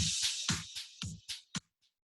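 A dry, punchy drum kit plays a short groove of kick, snare and bright cymbal hits, then stops abruptly with a brief tail.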